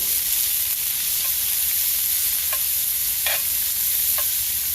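Half a red pepper and a little minced garlic fry in a pan with a steady, even sizzle and a few faint pops scattered through it.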